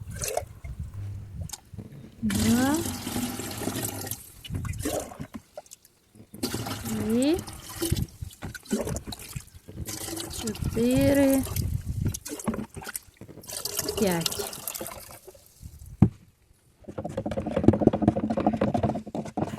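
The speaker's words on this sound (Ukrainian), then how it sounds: "Я зразу тут розведу галуни, а тоді вилю лійку." Fertilizer solution made with alum is poured from a watering can onto broadleaf hydrangeas in a garden, producing bursts of splashing, trickling water separated by pauses, with someone talking in between.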